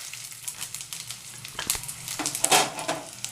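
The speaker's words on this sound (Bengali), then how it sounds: "সরষের তেল দিলাম, এর মধ্যে ভেজে নিচ্ছি।" Fennel, coriander seeds and dried red chillies fry in mustard oil with a close, bright sizzle. The crackle builds and pops near the end, with a few clinks of a spoon against the pan.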